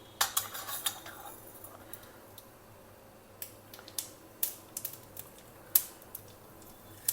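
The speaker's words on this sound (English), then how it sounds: "Heat a spoon of oil, then add in mustard seeds" Mustard seeds spluttering in a spoonful of hot oil for a chutney tempering, sharp crackling pops in quick scattered clusters with quiet gaps between, close and crisp, no talking.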